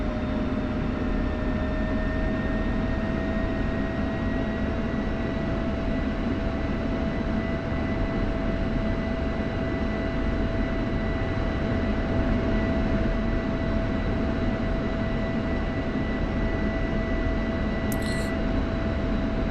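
An F-16 taxiing in the DCS World flight simulator, its engine giving a steady, continuous whine with a constant tone over broadband rumble, unchanging throughout with no talk.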